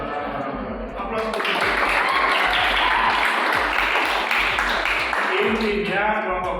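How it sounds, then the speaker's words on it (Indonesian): A room of debate audience members breaks into sustained, loud applause, heard close and steady over several seconds, with a voice speaking over the clapping. "Aplaus."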